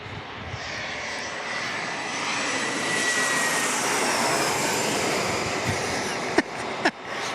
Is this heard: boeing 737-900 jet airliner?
yes